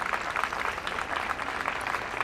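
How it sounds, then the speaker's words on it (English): A crowd at an equestrian eventing dressage competition applauds steadily, a dense wash of clapping at moderate distance with no clear individual voices. "Yes, it's the crowd."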